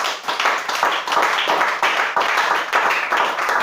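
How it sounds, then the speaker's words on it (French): A church congregation claps steadily in unison during a worship service, close and loud, with rhythmic repeated hand claps throughout. "On acclame le Seigneur Jésus-Christ."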